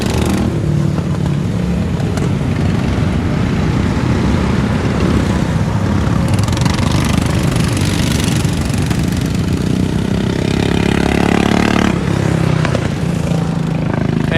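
Go-kart engines drone steadily as karts drive past on the Orlando Kart Center track at the end of a League of Legends final round, a continuous loud buzzing pack with swells as they pass.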